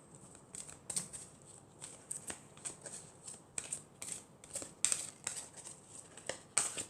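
Tarot cards being shuffled, handled and drawn at a table, giving a run of soft, close papery riffles and flicks with small snaps, with no talking.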